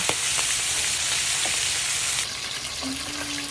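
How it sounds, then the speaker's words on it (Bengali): Marinated pangas fish pieces fry in hot oil, giving a steady, close bright sizzle that drops slightly in intensity partway through, with a few light clicks and no voices. "সমস্ত টুকরোগুলো দিয়ে আমি এখন একটু ভেজে নেব"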